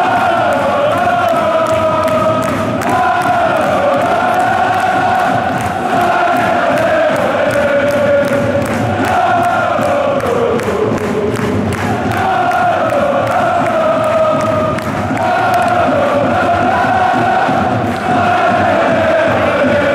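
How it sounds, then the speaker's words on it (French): A football crowd at Sclessin stadium during Standard Liège versus Antwerp at half-time, with Standard leading 1-0, fills the air with a sustained, far-off roar of cheering and chanting that swells and dips in long waves. "Les applaudissements sont là, l'ambiance est là."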